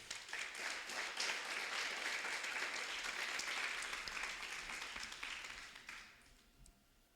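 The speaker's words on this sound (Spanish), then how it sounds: "Dale un aplauso al Señor." A church congregation applauds during a Spanish-language sermon, with steady sustained clapping that fades out over the last second or so.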